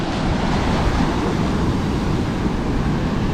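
Strong ocean waves at the shore make a loud, continuous roaring wash mixed with wind buffeting the microphone, close and unbroken with no voices.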